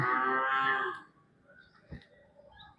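A single close, deep cow moo lasts about a second at a Khillar cattle market in Sangola, followed by quiet background and a soft thud.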